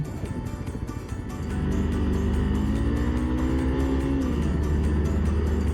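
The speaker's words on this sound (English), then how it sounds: "There's a car coming." A car on a road in Colombia approaches and passes close by, its engine note swelling and rising in pitch to a steady loud drone over a few seconds, heard from another moving vehicle with no talking.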